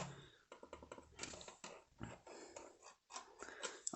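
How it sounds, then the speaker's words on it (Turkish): Quiet, rapid plastic clicks from a Logitech M220 silent mouse's scroll wheel come in irregular bursts close by, with short pauses between runs. "Tekerlek tuşu da bir tık sesli."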